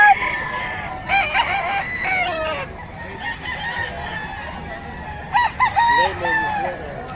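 A sweater gamecock rooster crows nearby in two clear bursts, one early and one later, each a strained, wavering call, over a constant murmur of background noise.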